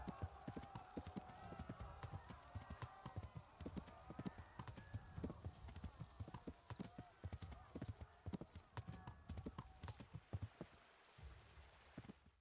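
Steady clip-clop of horse hooves from a mount ridden in Kingdom Come: Deliverance 2, a continuous rhythmic trot with a brief whinny and light rain in the background, slowing toward the end.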